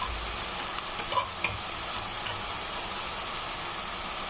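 Finely ground sesame seeds fry in hot oil for an egg curry, making a continuous, even sizzle at moderate level with a couple of small pops and no voices.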